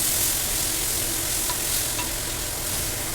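Tomatoes stir-frying in a pan of Kerala village-style beef curry give a continuous hiss of sizzling oil with faint scraping of a spoon, steady and close with no talk.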